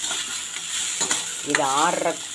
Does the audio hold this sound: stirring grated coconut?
yes